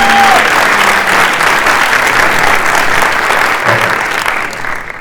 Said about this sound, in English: let's give a warm applause for Mr.